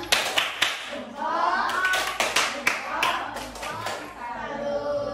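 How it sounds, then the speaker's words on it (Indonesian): A school class performs a rhythmic 'tepuk salut' clap, sharp group claps in a patterned beat mixed with children's voices and chatter. "Kita kasih tepuk salut untuk kelompok 1."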